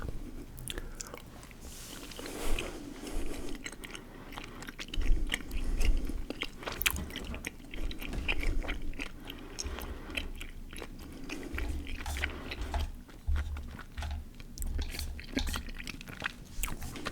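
Close-up crunching and chewing of hard candy in a quiet ASMR setting, with repeated crisp bites and wet mastication sounds continuing unevenly throughout.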